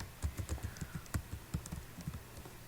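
Typing on a computer keyboard, a quick run of close, crisp key taps in an uneven rhythm, alone with no talking.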